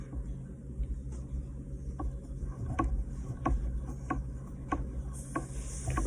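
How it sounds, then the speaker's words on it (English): Rotary fly-tying vise turned by hand while resin cures on a summer trout fly, giving soft repeated mechanical ticks and rubbing clicks at a steady rhythm over a low background hum, close and fairly quiet. "You want to continue to rotate your vise if you have the rotary option while you cure the resin"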